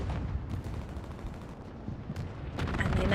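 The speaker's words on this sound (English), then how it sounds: "The strafe goes over them." A strafing run rakes the ground in Hell Let Loose, rapid bursts of gunfire over a rumbling bed that swells louder toward the end, with a voice faintly present.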